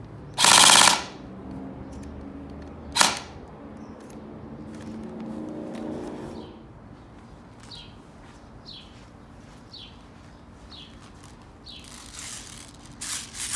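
Airsoft M4 rifle firing on full automatic, letting off two short, sharp bursts close by, the first lasting about half a second and the second a quick snap a couple of seconds later, followed by quiet outdoor ambience with faint bird chirps.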